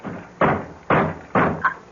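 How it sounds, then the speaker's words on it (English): Three heavy knocks on a front door, evenly spaced and close, with a faint higher thump after the last, staged as a radio drama sound effect. "It sounds like someone at the door. At the front door."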